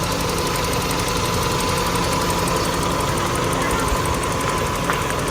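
A 1993 Toyota Corolla 1.6 SEG with a 4A engine idles steadily and loud, a constant close mechanical hum and rattle throughout with no breaks.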